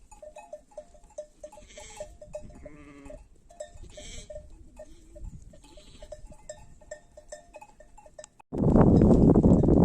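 Repeated bleats from lambs and sheep in a village barn, some distant and some closer, over a steady background, ending with a sudden burst of loud rushing noise.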